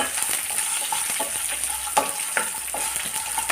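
Slit green chillies sizzle in a pan of hot oil for Tamil Nadu style lemon rice, a continuous crackling fry broken by several sharp scraping stirs, close and loud with no voices.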